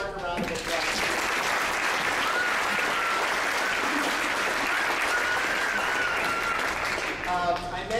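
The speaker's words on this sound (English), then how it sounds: "let's give Mark a round of applause." An audience at a school band concert claps steadily for several seconds, a dense, even round of applause that fades out near the end, with a voice briefly audible.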